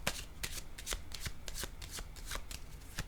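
Tarot cards being handled and laid down during a reading, giving a quick series of sharp papery slaps and shuffling flicks at an irregular rhythm, close and moderately loud with no talking.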